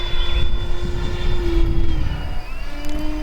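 A homemade radio-controlled Citation M2 jet on its maiden flight, a steady close engine drone with a sustained tonal whine that shifts pitch slightly, continuous and fairly loud throughout.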